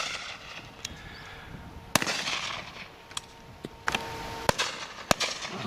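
Shotgun blasts at a partridge shoot go off outdoors as several sharp, loud cracks spaced a second or so apart over a steady open-air background.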